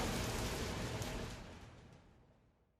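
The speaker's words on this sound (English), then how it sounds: "He opens the tavern door and goes out into the rain." Steady rain hisses and patters in a dense wash, gradually fading away into silence.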